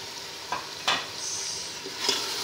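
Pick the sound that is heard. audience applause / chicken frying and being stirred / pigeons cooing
chicken frying and being stirred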